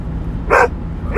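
A dog barks twice nearby, two sharp, loud barks about half a second apart over a low background hum.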